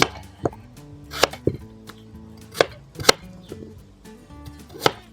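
Potatoes being chopped with a knife on a wooden board for an old-style borscht, sharp irregular knife strikes landing close and clear with short pauses between cuts.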